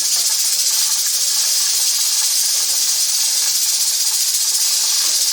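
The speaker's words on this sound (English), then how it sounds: "I'm just going to cook this mixture until the burger is brown." Ground venison and onions sizzle steadily in a pan, a close, constant broadband hiss with faint crackle running unbroken and fairly loud throughout, no voices.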